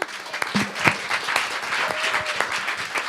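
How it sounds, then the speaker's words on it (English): Audience applause at a leadership parity event, a crowd clapping steadily and fairly close for about three seconds with no talk over it. "I think we should take one moment and applaud all of the action"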